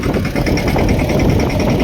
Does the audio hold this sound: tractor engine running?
yes